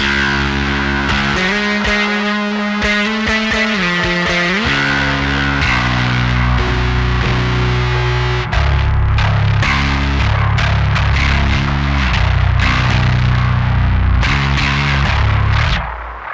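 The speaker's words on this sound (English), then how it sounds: "if I push in the Alpha Omega for my distortion tone" A bass guitar plays a heavy, fuzzy riff through thick distortion from an Alpha Omega pedal, sustained notes and chugging bursts, loud and up close with no voices.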